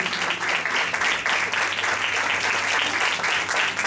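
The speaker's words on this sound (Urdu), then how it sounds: "زوردار تالیوں سے اس کی گزاری کیجیے." A church congregation applauds loudly and steadily throughout, a dense wash of many hands clapping at once with no break.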